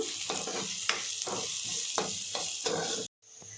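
Four crushed garlic cloves fry in a pan, a steady close sizzle broken by rhythmic scraping stirs roughly every half second, cutting off abruptly near the end before a quieter hiss resumes.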